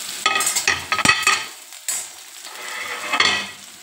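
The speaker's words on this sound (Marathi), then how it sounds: "आता कांदा छान परतू देऊ" Chopped onion with green chilli sautés in a wok (kadhai) for a steamed vegetable momo filling: close, loud bursts of spatula scraping and stirring over a soft sizzle, in uneven clusters with brief pauses and no voices.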